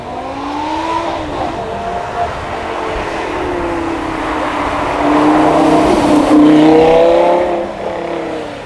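A Ferrari V10 supercar with more than 800 horsepower at a supercar weekend event screams past, its high engine note climbing and falling in long revving sweeps, loud and close, swelling near the end.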